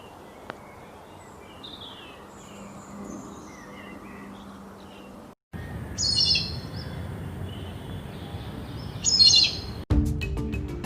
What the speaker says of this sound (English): Woodpecker uses its strong beak to make holes in tree trunk to find insects to eat.